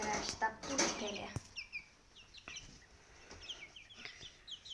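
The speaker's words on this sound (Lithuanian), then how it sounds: "Geras bus gaidys. Jo, jau bando giedoti." Clucks and short strained calls from a young rooster trying to crow come from a farmyard, scattered and fairly near, with a person talking early on.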